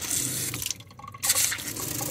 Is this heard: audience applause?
no